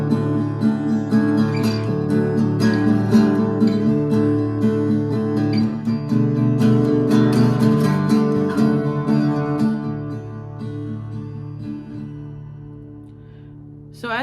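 Guitar strummed in an open, down-up pattern on a beginner arrangement of a song: close, ringing chords with repeated strokes that shift voicings, fading to a sustained decay at the end with no voices.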